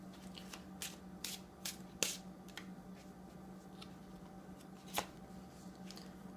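Tarot cards are shuffled by hand in a quiet room, with soft papery riffles and sharper snapping taps at irregular intervals, close but faint.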